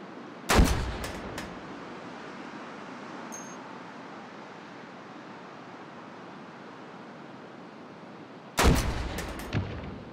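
Two loud gunshot blasts from the VR game Hot Dogs, Horseshoes & Hand Grenades, one near the start and one near the end with a faint echoing follow-up, separated by a steady hiss of background noise.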